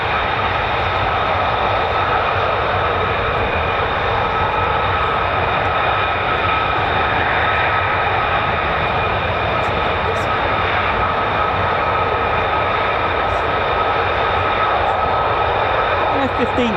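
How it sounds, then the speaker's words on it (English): An F-15 fighter jet coming in at RAF Lakenheath produces a steady, loud engine drone with sharp whining tones, continuous for the whole stretch, while people talk over it. "An F-15 coming in"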